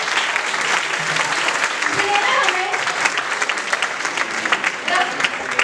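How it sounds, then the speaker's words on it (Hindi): Steady applause from a crowd for theatre performers after a Ramayana play, many hands clapping continuously and fairly loudly throughout. "आइए एक बार फिर हमारे नाट्य कलाकारों के लिए तालियों से अभिनंदन करते हैं"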